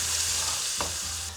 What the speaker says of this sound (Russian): пускай потихонечку это все пережарится